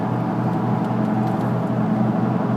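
Car engine running on a CNG fuel system at light throttle, a steady low hum with a droning tone, close and unchanging.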